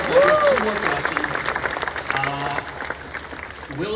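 A conference audience at Binance Blockchain Week breaks into clapping, a steady wash of applause at moderate distance that holds for a few seconds while a voice speaks over it.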